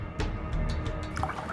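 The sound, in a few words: water being poured into a drink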